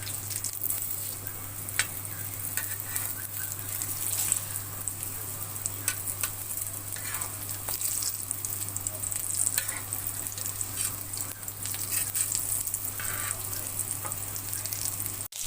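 Chana dal kababs fry in a pan, giving a constant bubbling sizzle with scattered crackles and light clinks across the whole stretch, and no talking.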